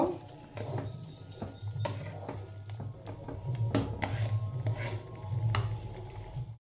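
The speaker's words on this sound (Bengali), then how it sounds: "এই পোস্ত বাটাটা আমি এখন এর মধ্যে ঢেলে দেব, দিয়ে এটাকে ভালো করে মিক্স করে দেব।" A spoon scrapes and stirs ground poppy seed paste with spices in a hot pan, giving a steady soft sizzle with intermittent scraping and faint birdsong in the background.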